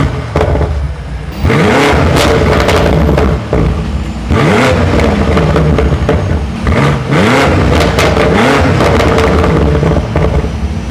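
A modified BMW F9X M5/M8 V8 roars loudly close by, with repeated sharp revs that climb and fall over a rumbling idle, separated by brief dips.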